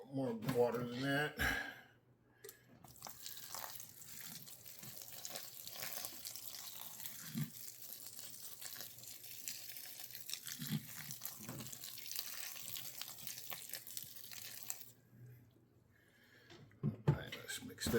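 Water pours steadily onto peat moss bedding for a nightcrawler worm farm, a continuous tap-like rush lasting most of the clip, close and moderately loud, with brief handling noises at the start and end.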